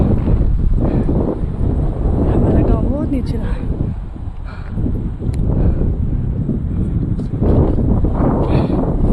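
A cool wind sweeps across a hillside tea garden, buffeting the microphone in a steady rumble that runs throughout as a person talks over it.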